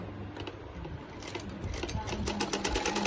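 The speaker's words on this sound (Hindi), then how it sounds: "सिलाई कच्ची नहीं रहे, इसलिए इसको एक बार और सिलाई कर लेंगे," A sewing machine running a second line of stitching along a salwar seam, its fast steady mechanical chatter close and fairly quiet, with a voice talking over it.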